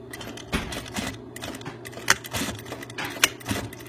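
A sewing machine tacks over the center seam of a stretch beanie hat in short, irregular bursts of needle clatter and clicks, close and moderately quiet.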